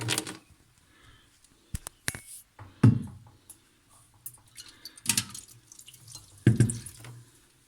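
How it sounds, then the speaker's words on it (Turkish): Hot water being poured into a refrigerator freezer drain, with intermittent splashing pours and dribbles in separate bursts against a near-silent background and no talking. "şuradan döküyoruz. Şimdi bu suyu"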